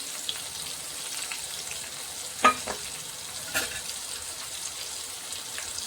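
Chopped chillies and tomatoes frying in a pan for urad dal make a soft, quiet sizzle with a few sharp stirring clicks and scrapes of the spoon scattered through.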